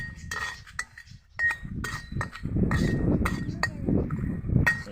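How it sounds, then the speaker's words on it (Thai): Toy pots and utensils clink and scrape as a child pretends to stir-fry basil, with irregular light metallic taps over soft shuffling, close and moderately quiet. "ตอนนี้แม่ค้ากำลังผัดกะเพราอยู่นะครับ"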